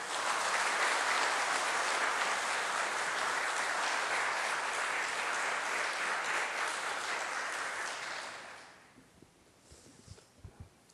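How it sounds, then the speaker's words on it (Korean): A church congregation at a Sunday service gives the pastor loud, sustained applause as he comes forward. The dense clapping fills the room for about eight seconds, then fades to scattered claps and shuffling. "나오실 때 큰 박수로 맞이해 주십시오"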